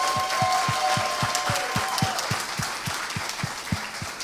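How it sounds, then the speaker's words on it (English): An audience at a school's kindergarten stage production of Disney's Frozen Kids gives sustained, even applause. A regular series of low thumps pulses beneath the clapping throughout. "So let's all give her a big round of applause."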